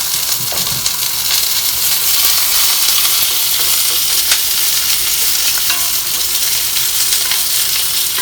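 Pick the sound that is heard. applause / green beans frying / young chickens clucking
green beans frying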